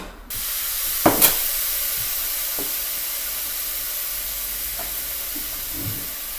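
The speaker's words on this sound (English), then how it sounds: "You're going to cover it, and you're going to let it simmer a little bit for about 3 to 4 minutes." A sweet potato and peanut stew (mafe) simmering in a covered pot, a loud steady hiss of steam and bubbling that starts abruptly, with a couple of faint knocks early on.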